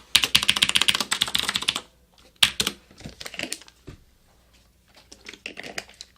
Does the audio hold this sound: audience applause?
no